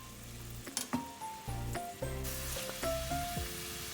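Onions frying in warm coconut oil give off a steady light sizzle, with a few sharp clinks of utensils against the pan and tonal music playing over it.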